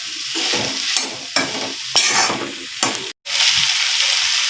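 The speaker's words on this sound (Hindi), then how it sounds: "भिंडी को डालेंगे। अच्छे अच्छे से मिक्स कर लेंगे।" Okra stirred and fried in a pan, a loud bright sizzle broken by repeated spatula scrapes and knocks, with a brief dropout before the hiss resumes.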